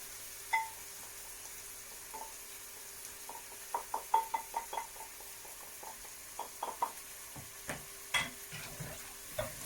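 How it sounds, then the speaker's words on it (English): Ground beef with nutmeg, cinnamon and curry powder sizzles softly in a pan while a utensil stirs and scrapes, producing a series of light irregular clicks and taps over a faint frying hiss, quiet and close. "So that can just go in and have fry with the rest of it."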